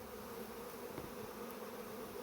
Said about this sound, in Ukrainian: А в нас вийшов рій.